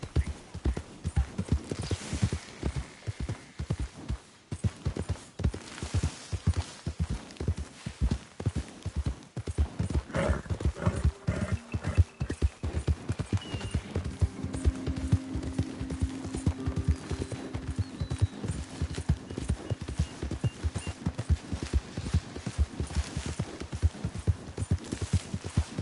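Horse hooves clip-clop steadily in the Red Dead Redemption video game, a fast, regular rhythm of close, loud hoofbeats running throughout, with faint background tones in the middle stretch.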